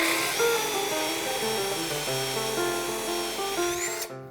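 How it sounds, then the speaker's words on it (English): A Bauer consumer-grade drill bores through wood with a 2 inch bit, a steady loud whining motor drone with grinding cut noise, its pitch rising slightly before it stops abruptly at the end, no talk. "Now we're going to something that I consider a pretty decent consumer grade drill"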